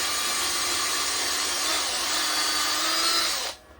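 A power drill drives a screw into a dry-lined living room wall with a loud, steady, high whirring whine that holds for over three seconds before cutting off abruptly.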